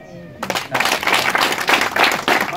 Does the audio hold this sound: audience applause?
yes